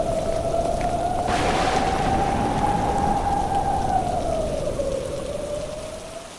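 Heavy rain roars close and steady while a sustained droning tone rises and falls over it, fading slightly toward the end.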